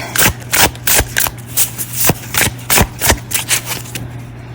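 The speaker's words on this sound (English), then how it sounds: "let's see how they shuffle" Tarot cards being shuffled in quick bursts, a dozen or so crisp riffling snaps at an uneven rhythm, close up with a faint steady hum underneath.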